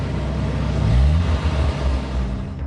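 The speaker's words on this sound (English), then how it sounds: "You could hear the engine just make the noise of when somebody has pushed the accelerator to the floor" A car engine revs hard with the accelerator floored out in the desert, a loud, steady low roar that swells and holds for a few seconds.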